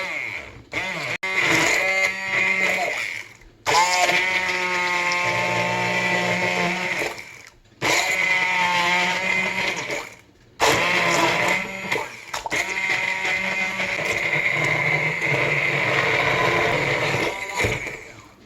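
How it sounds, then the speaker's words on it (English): Immersion blender whirring down in a pot of cooked pears for pear butter, loud steady motor whine in long runs broken by brief pauses, with the pitch shifting as the blade works through the fruit. "Make sure you keep the immersion blender down in here"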